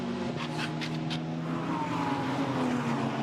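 An Alpine GT4 race car being pushed hard around the Zandvoort circuit during qualifying, a steady engine drone with rising and falling pitch as it accelerates, heard at moderate distance under constant broadband track noise.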